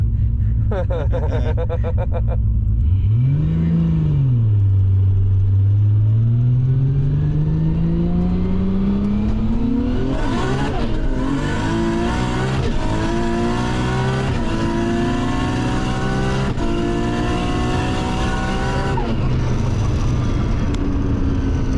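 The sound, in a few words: 800hp Nissan GT-R with sequential gearbox accelerating, roll racing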